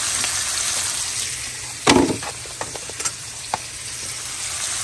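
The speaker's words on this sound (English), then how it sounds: "And we're just going to let them cook until the mushrooms release their moisture." Organic mushrooms, freshly washed, sizzle steadily in a frying pan, with a broad hiss held throughout, a louder stir-and-clatter burst near the middle and a few small taps after it.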